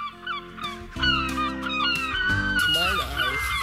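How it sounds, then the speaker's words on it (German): Seagulls call on a Baltic Sea beach, several loud, squawking, honking cries overlapping close by, set against steady background noise from the shore. "Die Möwen klauen Chili doch glatt das erste Eis."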